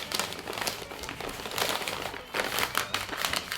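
Aluminum foil crinkles and crumples close by as butchered deer meat is wrapped twice, with irregular rustling bursts throughout and a louder flurry near the end.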